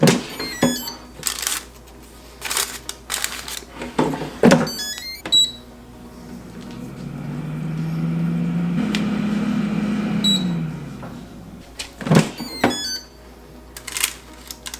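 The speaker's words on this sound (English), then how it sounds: "Let's get the air fryer started" An air fryer starting up while a high-protein strawberry strudel is prepared: a series of sharp beeps and clicks, then a steady fan whir swells, holds and fades, followed by more beeps and clicks.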